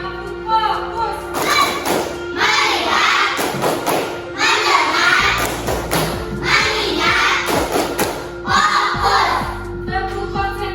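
Children in a classroom clap together in a chanted counting clap game, bursts of loud group claps and thumps between shouted chanting, close and energetic, with short pauses between rounds.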